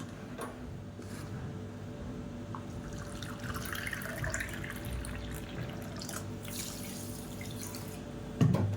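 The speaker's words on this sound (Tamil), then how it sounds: "1 கப்பு தண்ணி ஊற்றிக்கலாம்." Water is poured from a cup into a pan of sugar to make syrup for mini jangiri, a steady close splashing and trickling stream that runs throughout without speech, ending with a brief knock.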